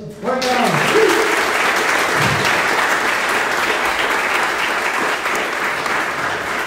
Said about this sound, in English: You can wave your hands and give him an applause.